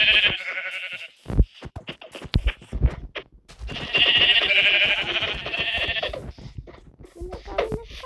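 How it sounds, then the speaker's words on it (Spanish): Sheep in a video game bleat repeatedly in loud, close calls, a long quavering bleat followed by a second sustained one, with sharp clicks and other game noises scattered between them. "Tres ovejas."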